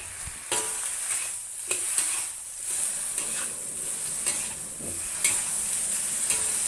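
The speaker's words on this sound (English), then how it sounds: "continue stir fry over high heat" Bok choy stir-fries over high heat in a wok, seasoned with salt, sugar and white pepper: loud steady sizzling broken by repeated scraping stirs and clanks of the spatula.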